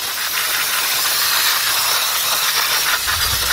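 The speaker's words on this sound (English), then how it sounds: "first thing we do, get our brake clean" Brake cleaner sprays in a steady, loud hiss onto the rear brake of a 2003 Ford Explorer with a 4.0 engine, a continuous close aerosol rush with no talk and a low thump near the end.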